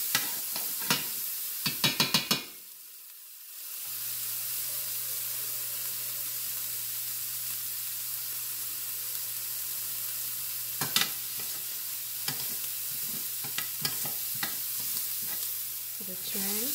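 Cuban picadillo sizzles in a pan with a broad, steady hiss, interrupted by a few sharp scraping clicks of stirring, a brief quiet dip, and scattered spatula knocks; no one speaks.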